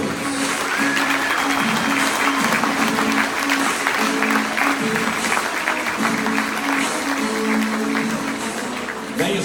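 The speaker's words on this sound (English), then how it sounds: "How about one big round of applause for all of our cowboys?" Big crowd applauding at a professional bull riding event in Ames, Iowa, steady dense clapping filling the whole stretch, with a faint background tone underneath.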